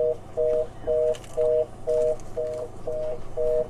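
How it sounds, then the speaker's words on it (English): A telephone line on a talk radio show gives a steady rhythmic series of eight short two-tone beeps, evenly spaced and fairly loud, with faint background noise between them. "That's the dial tone."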